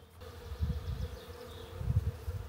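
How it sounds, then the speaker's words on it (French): Many bees swarm inside a garden hedge in the countryside, a low continuous droning buzz that swells and fades in waves, close by and unaccompanied by voices. "C'est infesté d'abeilles. Mais il y en a partout."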